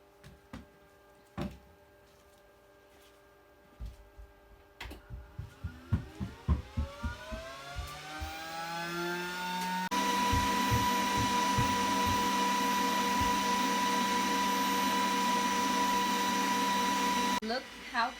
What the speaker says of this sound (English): I have my Glowforge like in the back working.